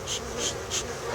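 Bees buzzing around a beehive in an outdoor apiary, a steady insect drone with repeated swells as individual bees pass close, heard alone without talk.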